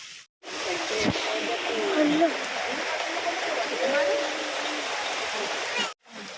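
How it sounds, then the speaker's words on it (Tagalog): Steady, dense, heavy downpour hissing without pause, with faint voices murmuring underneath. "Ulan lang."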